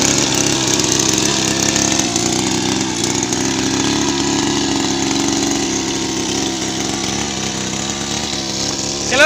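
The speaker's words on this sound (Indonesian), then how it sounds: "mohon maaf ini agak sedikit berisik suaranya karena dia pakai mesin 2 tak sepertinya" A noisy two-stroke engine drones loud and continuous close by on a shallot farm field in Situbondo, East Java, with a rough, steady buzzing tone throughout.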